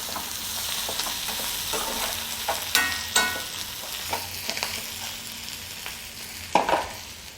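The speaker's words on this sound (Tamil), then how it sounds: "இந்த மாதிரி ஒரு கிண்டி நல்லா கிளறி விட்டுட்டு திரும்ப மூடி போட்டு வச்சுருங்க" A spatula stirs ivy gourd (kovakkai) fry in a hot pan, with repeated scraping strokes and clatters over a steady close sizzle.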